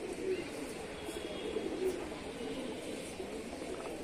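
Pigeons coo in low, soft, repeated calls over a steady murmur of background noise, with no one talking, as a female pigeon flies.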